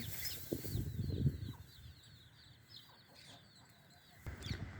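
Low clucking bursts from a farmyard rooster calling hens to food come close at the start and again near the end, with a continuous layer of faint high chirping from other birds between.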